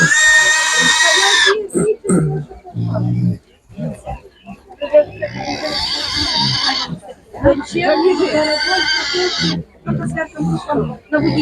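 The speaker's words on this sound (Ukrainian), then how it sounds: "Свинка." Loud squeals and grunting from a piglet mix with snorts and animal noises at an animal market, coming in bursts between short pauses.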